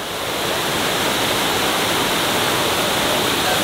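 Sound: waterfalls in a park in Peru

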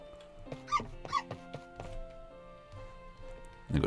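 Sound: dog in the video game My Time at Portia

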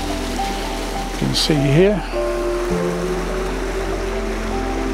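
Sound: water flowing through the old mill sluice

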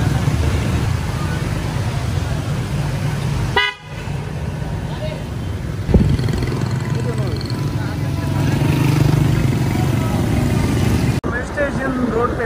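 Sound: motorcycle passing on flooded street

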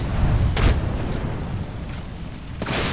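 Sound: frag grenade explosion in Apex Legends video game

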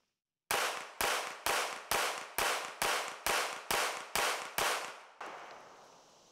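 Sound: VP P30L pistol with compensator being fired

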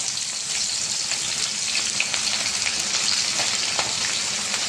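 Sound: frying shallots in a pan

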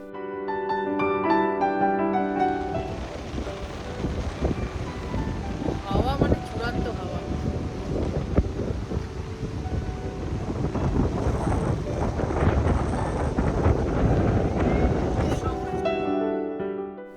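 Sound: strong wind at the beach

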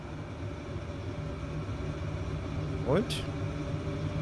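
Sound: regional train passing in the video game Transport Fever 2

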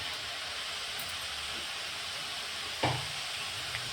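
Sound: vermicelli frying in oil in a pan

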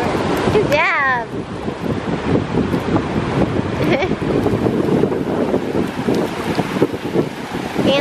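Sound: ocean waves at the beach

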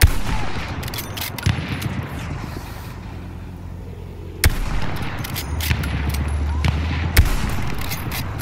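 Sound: gunfire in Battlefield 1 video game

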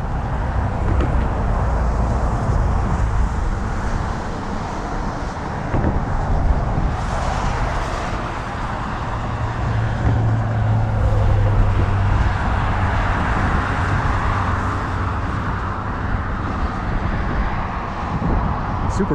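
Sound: wind blowing at a scenic overlook

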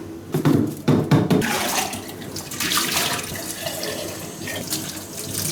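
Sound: water running into a teapot while cleaning it

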